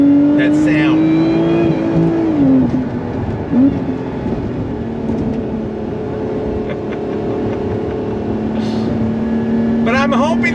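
A supercharged Lotus Emira engine hums steadily at moderate revs, with a brief rise and fall in pitch early on, recorded from inside the cabin.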